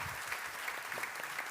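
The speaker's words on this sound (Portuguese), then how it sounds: "uma salva de palmas para o Arthur Japan" Steady audience applause greets author Arthur Japin at the Flip 2016 literary festival, a soft, even wash of many hands clapping that stays fairly distant throughout.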